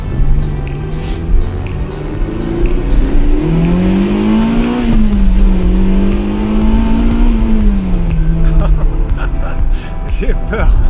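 A Ferrari 328 GTB with about 270 horsepower accelerates hard, its engine note climbing and holding a loud, strained drone through the gears, heard from inside the car with a voice talking over it.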